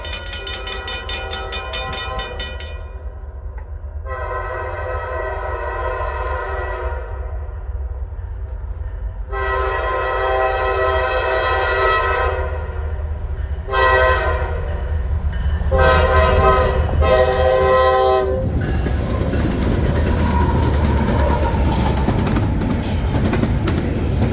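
Freight train hauled by two Norfolk Southern locomotives and one Union Pacific unit passing close by, with several long, loud horn blasts over a steady engine rumble, followed by rolling wheel and car noise as it goes by.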